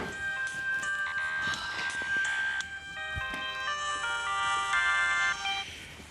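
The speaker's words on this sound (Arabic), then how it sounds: "ايه تليفوني بيرن" A mobile phone rings indoors at home, playing a bright electronic melody of tonal beeps that repeats steadily for several seconds, loud and close with no voices over it.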